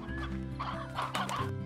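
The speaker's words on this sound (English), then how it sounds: "So Briar hens are doing fine." Briar hens from the video game Slime Rancher, a short burst of clucking and squawking over a looping background music bed, loud and close.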